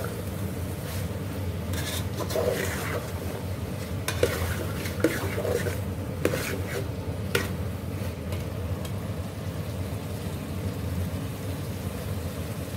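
White chickpeas stirred and roasted in a spiced masala in a pan: a steady sizzle of frying runs throughout, broken by repeated scrapes and clacks of a spoon against the pan, close and continuous with no talking.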